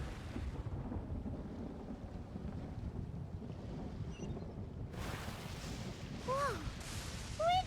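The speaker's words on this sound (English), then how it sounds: "Where'd that thunder come from? Be careful! This thunderstorm is just like the one on that day." Thunder rumbling through a thunderstorm in the video game Genshin Impact, a low continuous roll with wind-like noise and a brighter crack surge near the end, chirpy game sounds appearing briefly.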